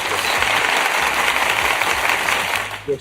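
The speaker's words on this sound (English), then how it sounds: "I just want to applaud myself real quick" A lone person claps for himself at a Universal Studios event, a steady close patter of hand claps running throughout, ending with a brief burst of voice.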